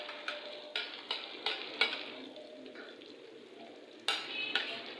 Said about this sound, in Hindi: ये अदरक डाल रही हूँ और ये हरी मिर्च डाल रही हूँ